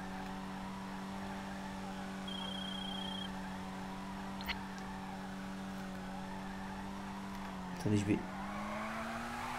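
A rally car with xenon headlights in a tuning video game holds a steady engine drone while drifting, then gives a short tire squeal near the end; someone talks over it.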